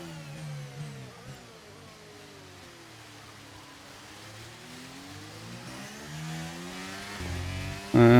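F1 car in the F1 23 racing game at the Canadian Grand Prix, braking and overtaking an AI rival: a steady engine drone whose pitch sweeps down under braking and then climbs again, with a loud burst at the end.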